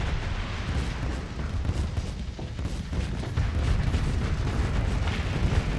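Explosions in the space combat game Starsector form a continuous deep rumbling roar that stays loud and heavy for the whole stretch, with no clear separate blasts.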